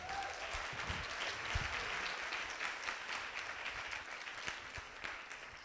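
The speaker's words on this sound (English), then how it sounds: "So clap for that, please" Faint, distant applause from an audience at a university teaching-center event for students, a soft, steady patter of clapping with no talking.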